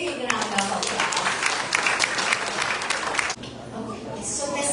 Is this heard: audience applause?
yes